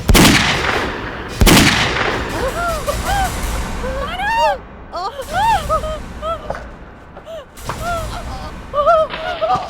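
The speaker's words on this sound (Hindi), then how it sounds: "तुमने मेरे भाई को गोली मार दी।" Gunshots ring out in a tense crime-drama confrontation, with loud sharp bangs near the start followed by further shots, amid shouting and agitated voices.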